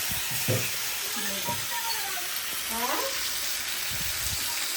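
Malabar spinach cooking at night in a home kitchen with jackfruit seeds and fish head: soft sizzling and stirring with scattered clinks close by, while a person talks over it.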